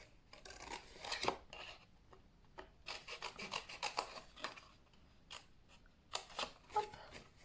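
A craft knife scrapes through paper in short, quiet rasping strokes, stopping and starting in uneven bursts.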